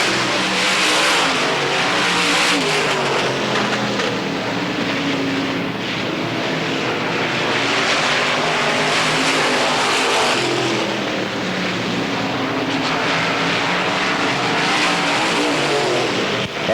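Race cars at the 1990 Hillbilly 100 at Pennsboro Speedway, a loud continuous roar of several engines droning and revving together around the track, with no break in the noise.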